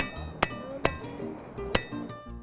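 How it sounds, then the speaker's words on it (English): Red-hot metal is hammered on an anvil to sharpen a nail tip: three sharp, ringing metallic strikes spaced irregularly, close and clear over quiet background. "use my trusty hammer to sharpen out the end of it in order to make a nail"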